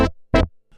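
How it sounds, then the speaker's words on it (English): Two short, punchy brass stabs from a Yamaha CS-80 synthesizer, the second louder, followed by a faint soft tail. "So you can have a brass sound like this,"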